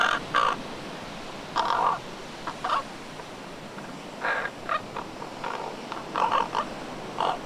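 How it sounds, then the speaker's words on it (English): Young ravens and crows chatter in short, harsh, raspy bursts, several calls in irregular clusters over a quiet background, fairly close and alone. "Just know that both young ravens and young crows will chatter and make sounds like these."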